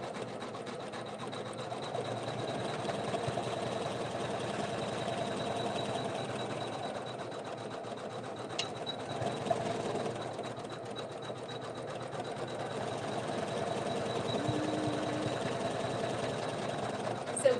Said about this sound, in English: it's going to stitch a zigzag stitch to hold it in place